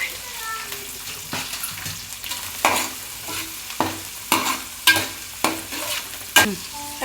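Curry leaves, onion and green chillies fry in a pan for masala rice, with a soft sizzle under repeated scraping stirs of a spoon, and someone speaks intermittently.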